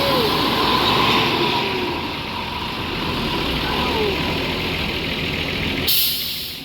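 A long-distance bus of PO Bintang Permata Bunda Transport pulls out of a bus terminal in Indonesia, its diesel engine rumbling steadily nearby with air brake hisses. The engine sound fades slightly toward the end.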